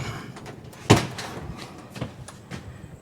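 An outside cabin door gives one sharp knock or thud early on, then a few softer clicks and light bumps follow, moderately close in a quiet room.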